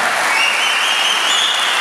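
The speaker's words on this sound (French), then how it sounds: "il y a des applaudissements pour les motards" Steady applause from a crowd at a charity cheque ceremony in Algrange, honouring volunteer bikers, a continuous even patter of many hands at moderate distance.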